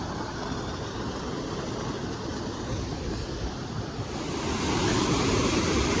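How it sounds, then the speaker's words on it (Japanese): A rushing river in the forest of Yakushima, a broad, steady roar of flowing water that swells slightly louder toward the end, with no voices. "すげえ川。"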